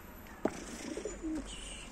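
Pigeons in a coop coo softly in a couple of low, rounded calls, with a brief sharp tap and faint background rustle around them.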